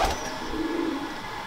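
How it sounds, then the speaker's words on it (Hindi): A pigeon coos softly in Wassanpura, Lahore, a short low murmuring call with a faint higher chirp at the start, heard close and alone without talk. "ये उड़ा हुआ कबूतर"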